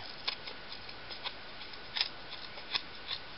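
Scissors snip string ends on a picture frame, several faint, sharp clicks spaced irregularly over a quiet background.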